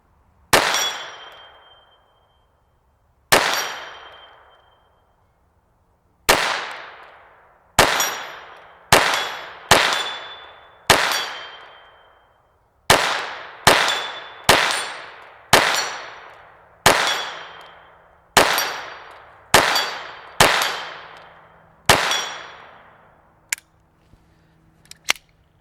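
A SIG P322 Competition .22LR pistol fires about fourteen sharp shots at a steel target, each crack followed by a ringing metallic ping. Shots come singly and in quick pairs with pauses between them.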